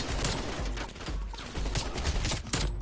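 AK-47 automatic fire in Call of Duty: Black Ops Cold War, rapid loud bursts of close gunshots rattling almost continuously across a few seconds with overlapping impacts.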